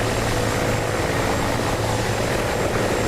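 Mi-24 attack helicopter in the combat flight simulator DCS World, a steady loud rotor and turbine drone with a low thumping beat running continuously throughout, no talking.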